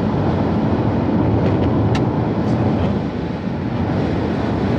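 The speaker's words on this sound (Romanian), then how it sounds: "Acum s-a pornit și motorul" The combustion engine of a 2022 Renault Captur E-Tech plug-in hybrid runs during a test drive, a loud steady low drone mixed with road rumble and wind noise heard from inside the car, without talking.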